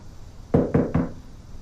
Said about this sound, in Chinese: 可颂，开门啊！